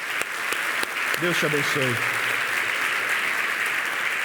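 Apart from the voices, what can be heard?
applause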